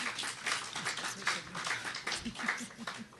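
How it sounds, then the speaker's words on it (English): An audience at a student employer internship panel claps for the panel guests. The applause is a faint, dense patter of many hands that swells and dips, with some murmured voices underneath. "Can we have a hand applause for them?"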